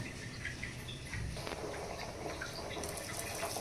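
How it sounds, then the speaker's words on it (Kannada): Water poured into a pan of frying tomato and capsicum while making instant upma, a close, steady splashing pour that fills a few seconds, with no talking. "ಟೊಮೊಟೊ, ಕ್ಯಾಪ್ಸಿಕಮ್ಮು ಒಂದು 2 ನಿಮಿಷ ಫ್ರೈ ಆದ ನಂತರ ನೀರು ಹಾಕ್ಕೊತಾ ಇದ್ದೀನಿ"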